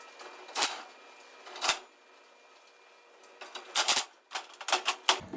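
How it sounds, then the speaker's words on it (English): A couple of screws zipped in with a power driver while mounting a convection fan bracket in an Austroflamm/Rika pellet stove: short, separated whirring bursts, a pair early on, then a cluster of quicker bursts near the end, close and fairly loud. "I'm just gonna zip a couple of screws on just to hold it into place"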